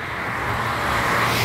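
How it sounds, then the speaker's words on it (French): A car passing on a city street, a close, loud broadband whoosh of tires and engine that swells steadily over about a second and a half with no voices. "T'as vu comment les voitures passent?"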